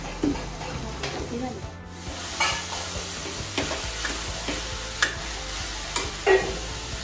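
Chopped cabbage stir-fries in a hot pan for homemade veg momos, giving a steady, close sizzle and hiss broken by scraping, knocking stirs of a spatula, with no voices.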